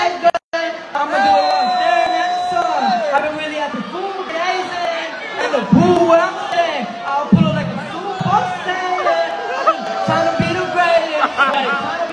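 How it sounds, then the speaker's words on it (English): A festival crowd boos the performers during their live performance, a loud, dense wall of voices with sustained jeering tones and chatter that holds steady for the whole stretch. "the entire crowd booing them right as they started doing their summer jam slammer"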